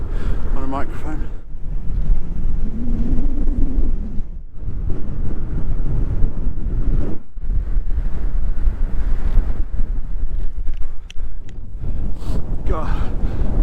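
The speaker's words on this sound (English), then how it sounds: "I don't know if you can get this wind on a microphone." Strong wind buffets the microphone while someone cycles into a headwind, a loud, constant roaring rumble with gusty surges and only brief lulls, filling the whole stretch.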